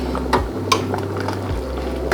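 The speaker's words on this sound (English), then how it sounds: "I'm going to add hot water. And I'm adding enough water to cover all my veggies and buckwheat by about an inch." Hot water poured into a pot of vegetables and buckwheat, a short soft liquid splash and gurgle with light clinks against the pot, close by and fairly quiet, no talking.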